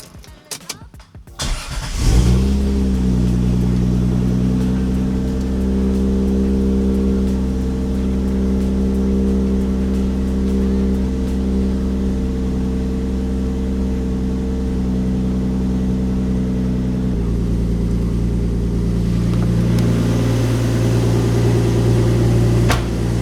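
A single-turbo Toyota Supra engine catches after a brief crank and settles into a steady, loud idle, its deep droning tone holding evenly for about twenty seconds with a slight shift in pitch near the end.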